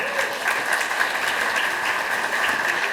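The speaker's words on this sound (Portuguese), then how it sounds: "E nós, obviamente, o agradecemos com os nossos aplausos" Applause fills a mediation congress hall as the audience claps together, a dense, even roar of hands that holds steady and fairly loud throughout.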